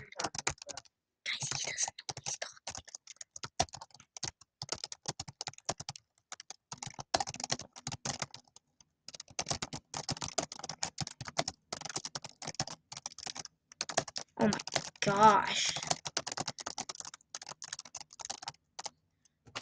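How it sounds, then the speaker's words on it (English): Rapid, continuous clatter of keys on a computer keyboard during a Nitro Type typing race, steady bursts running nearly twenty seconds with short pauses, close and moderately loud, with a brief spoken exclamation over it. "I was typing."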